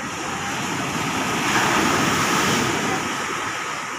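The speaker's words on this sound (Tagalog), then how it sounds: "Ayan, sunod-sunod yung malaking alon." Large ocean waves break in succession near a fishing boat, a steady roaring wash of surf with some wind noise and no voices.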